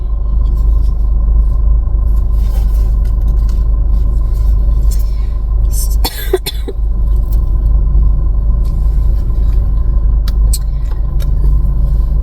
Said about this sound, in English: My car's on, by the way, so hopefully it's not bothering anyone.